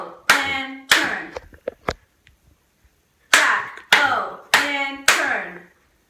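Hands clap out the syllables of jack-o'-lantern, first in a pair of claps and a few small taps, then after a pause four sharp, evenly spaced claps, loud and close, with no talking between them.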